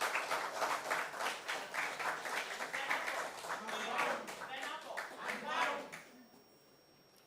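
An audience at a high school quiz competition claps for several seconds, a steady mass of applause that ends abruptly in quiet.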